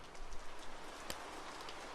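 Heavy rain ambience in LittleBigPlanet 3, a steady hissing wash of rainfall at low level with a single brief sharper tap partway through, no voices.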